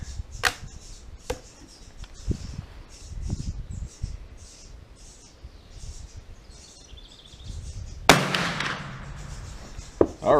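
A Dutch Model 1871/88 Beaumont-Vitali black powder bolt-action rifle fires one sharp, loud shot outdoors, with a booming tail after it. Birds chirp in the background, and there are a few lighter clicks and knocks.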